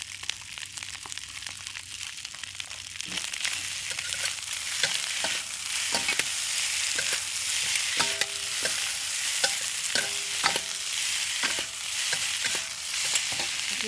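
Kimchi shrimp fried rice sizzles and fries in a pan at a low, steady level, punctuated by repeated scraping and tapping of a utensil stirring it.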